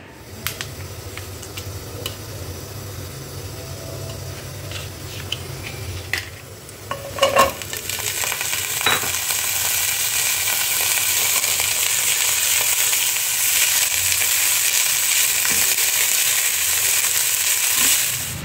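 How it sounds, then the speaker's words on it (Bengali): Semolina roasting in ghee for sooji halwa, stirred steadily in the pan with a continuous sizzle that grows louder and denser partway through, with scraping strokes and no talking. "আর এখানে সুজিটাকে এখন একটু রোস্ট করতে রেখেছি"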